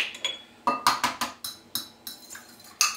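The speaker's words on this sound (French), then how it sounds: "Donc je vais rajouter 2 œufs entiers, en fait que je vais juste les mélanger, donc les fouetter un peu." Two whole eggs being whisked in a bowl for a buckwheat bread batter, heard as a series of sharp, clinking utensil strokes against the bowl in an uneven rhythm, close and clear.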